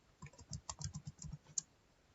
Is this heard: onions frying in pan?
no